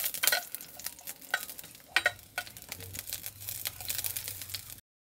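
Onion dropped into hot oil in a clay pot, a bright crackling sizzle that stays busy for several seconds with a few louder spits, close by, then cutting off abruptly near the end.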